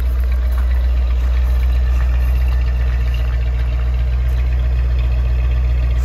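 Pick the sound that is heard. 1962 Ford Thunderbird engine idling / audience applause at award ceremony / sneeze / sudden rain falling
1962 Ford Thunderbird engine idling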